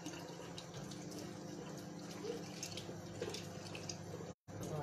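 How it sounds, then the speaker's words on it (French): Kitchen sink tap water runs in a steady, close stream while a small whisk is rinsed, with faint clinks under the flow and a brief cut near the end. "Il va nous falloir forcément notre petit fouet que je vais déjà vite nettoyer."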